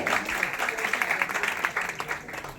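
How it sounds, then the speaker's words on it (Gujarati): An audience claps steadily at a five-day religious festival held in a haveli temple, a dense, even patter of many hands sustained throughout with no break. "ખૂબ તાળીઓ પાડી દઈએ એકવાર એમના માટે"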